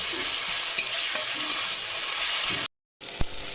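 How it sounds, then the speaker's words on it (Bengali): Dried chillies, chopped onion, garlic paste, chopped tomato and chilli powder fry in oil with a steady, close sizzle, broken by a brief silent gap and a few stirring knocks against the pan. "2টো শুকনো লঙ্কা, পেঁয়াজ কুচি, রসুন বাটা দিলাম, টমেটো কুচি, লঙ্কার গুঁড়ো, সব কিছু ভালো করে কষিয়ে নেব।"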